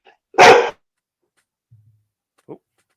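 A single loud dog bark up close, followed by a brief low rumble and one short faint yip in otherwise quiet surroundings.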